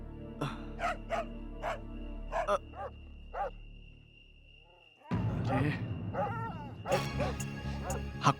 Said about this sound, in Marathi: हा कुत्रा पण ना, यालाही आत्ताच रडायचा होता.